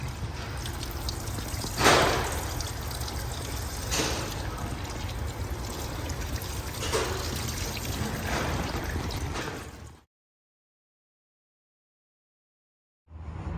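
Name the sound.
water rinsing an engine air filter from the inside out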